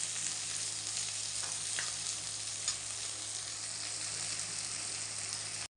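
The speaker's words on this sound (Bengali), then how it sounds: "তো বন্ধুরা আমি বিনসটা দিয়ে দিয়েছি, এখন বিনসটা ভালো করে ভেজে নেব।" Green beans fry in a pan with a steady, dense sizzle that holds close and even throughout, broken only by a few faint clicks of stirring, with no voices.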